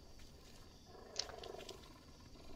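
A wild cat growls low in the Green Hell jungle video game, a brief rumbling snarl with a sharper burst in the middle over steady ambient forest noise, with no talking.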